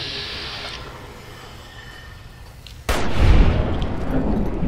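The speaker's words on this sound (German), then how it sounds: "So ein panzerbrechender Scharfschützengewehrschuss, Schleichangriff, der haut natürlich rein" An armor-piercing sniper rifle round fires as a sneak attack in Fallout New Vegas, a sudden sharp, loud crack midway after quiet ambience, followed by a heavy rumbling echo.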